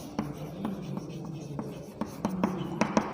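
Chalk or marker taps and scratches on a board while writing an equation, a series of short, faint strokes in a quiet lecture-room setting.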